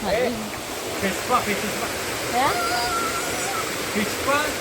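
A waterfall in Kannur rushes as a steady broadband roar close by, with several people talking over it throughout.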